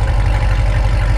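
A supercar engine idles close by, a steady, deep low rumble with a slight pulsing lope that holds even throughout, with no talk over it.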